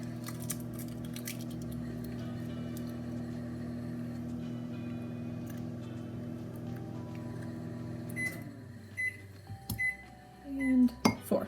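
A microwave oven hums steadily while melting chocolate in a home kitchen, a constant drone that stops partway through, followed by a few clicks and knocks of the door and handling.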